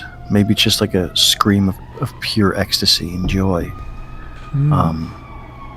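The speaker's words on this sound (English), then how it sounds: "Sorry for the sirens going on in the background here." A siren wails steadily in the distance beneath a person talking up close, its rising and falling tone continuing through the speech.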